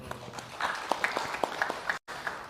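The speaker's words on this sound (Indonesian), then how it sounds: "saya apresiasi, tepuk tangan untuk ibu-ibu semua ini" Applause from an audience of women at an Indonesian parliamentary commission hearing, a steady moderate patter of clapping with a few sharper claps, fairly distant in a large room, briefly cutting out near the end.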